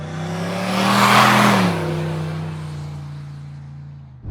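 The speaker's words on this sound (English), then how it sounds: "I'm very privileged to be out alone in the Brookwood wagon" A Brookwood wagon drives past close by with a strong engine rev that swells and then settles into a steady, throaty drone. Nobody talks over it.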